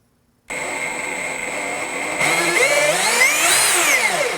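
Milwaukee M18 FUEL 20-inch dual-battery cordless chainsaw switching on after silence, a loud steady electric whine that climbs in pitch as the trigger is squeezed further, rising and wavering in speed, close and without talk.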